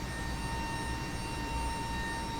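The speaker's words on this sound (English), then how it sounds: "The sound you hear right now is the sound of the hydraulic pumps" Hydraulic pumps on an Airbus A319 run while the cargo doors open, a constant loud hum with a steady whine, heard up close without talk.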